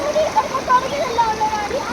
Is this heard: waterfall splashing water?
yes